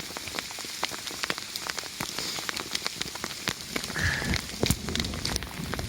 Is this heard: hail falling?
yes